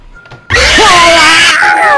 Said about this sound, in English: What was that scream?